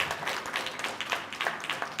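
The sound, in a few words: audience applause for the CEO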